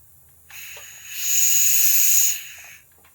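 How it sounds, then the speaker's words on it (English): A small air compressor hisses steadily, building to a louder, brighter rush for a second or so before easing back down, with no talking over it. "Go, little compressor, go!"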